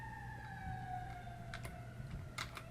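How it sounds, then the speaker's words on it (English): Wailing emergency vehicle siren heard from a distance outdoors, its sustained tone sliding slowly downward, faint behind a low steady hum with a few soft clicks nearby. "Sorry about the sirens in the background."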